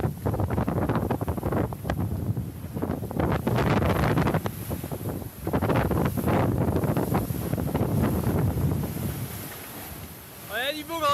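Strong wind of about 40 knots at sea near Cape Horn aboard a sailboat, a loud rushing gusty roar buffeting the microphone with water wash, surging and easing in waves.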